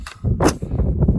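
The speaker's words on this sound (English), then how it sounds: "shot with an AR-15" One sharp crack from an AR-15 rifle firing a 5.56 round at a steel body armor plate outdoors, followed by a short rumbling tail.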